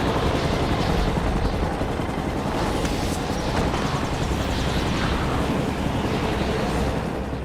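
Helicopter in a film action scene, a loud continuous rotor roar with heavy low rumble, steady throughout and close.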